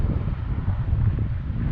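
Wind gusts into the microphone at the south entrance of Capitol Reef National Park, a loud, continuous low buffeting roar with no voices.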